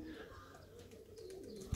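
Pigeons coo softly in a low, murmuring stretch, faint and somewhat distant, with a brief bump at the very end.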